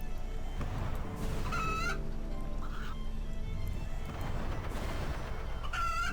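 Chickens in RuneScape 3 give short clucking calls in two distinct bursts, early and at the very end, over a steady, dense game background with no talk.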